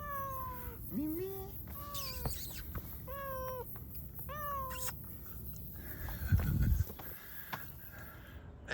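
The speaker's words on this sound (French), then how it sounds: "Le minou, Mimi, le Mimi, le minou" A domestic cat meows repeatedly at close range, outdoors in the Basque Country between Bayonne and Bilbao, with about six distinct calls spaced over several seconds and a short burst of rustling or thumping near the end.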